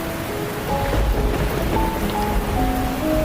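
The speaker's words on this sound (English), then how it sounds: "The sky was heavy with dark clouds, and rain was pouring down heavily." Heavy rain pouring down in a steady, dense hiss of drops on surfaces, loud and unbroken throughout, with a faint deep rumble underneath.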